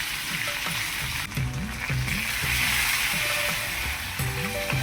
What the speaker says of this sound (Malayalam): വെളിച്ചെണ്ണ ഒഴിച്ചിട്ട് കുറച്ച് കടുക് പൊട്ടിച്ച് വറ്റൽമുളക് ആഡ് ചെയ്ത് കറിവേപ്പിലയും കൂടെ ചേർത്ത് കൊടുക്കാം